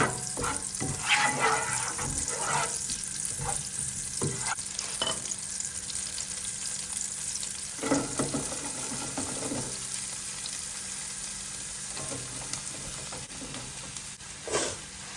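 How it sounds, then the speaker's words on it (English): Onions sizzle in melted butter in a pan with a steady, close crackle across the whole stretch, broken by a few brief louder clatters and stirs. "once this is all melted, I'm going to add the onions."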